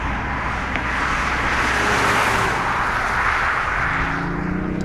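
BMW i8 hybrid sports car driving in sport mode, with a steady, loud broadband road and engine roar heard from inside, continuous with no talk over it.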